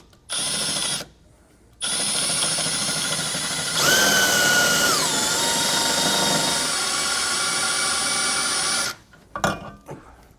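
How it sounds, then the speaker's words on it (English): A power drill bores through a steel I-beam of a 2015 Grand Design Momentum RV frame. A brief whir, a pause, then a long steady drilling run whose pitch sags under load before stopping abruptly. "we're just going to drill straight on through it"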